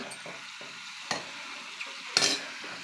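Chilli powder frying in hot oil for boti curry, a quiet steady sizzle with a handful of sharp scrapes and taps of a spoon against the pan, nearby and free of talk.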